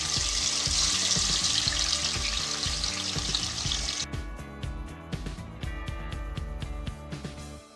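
Rohu fish pieces frying in a small pan of oil, a steady loud crackling sizzle that thins out partway through into sparser pops and spatters.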